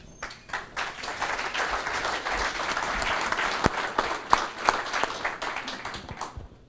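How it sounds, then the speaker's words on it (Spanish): Audience at a university keynote lecture applauds a doctor introduced to speak. Individual claps stand out within steady, moderately loud clapping that builds and stays dense before tapering slightly at the end. "nuestro aplauso para él"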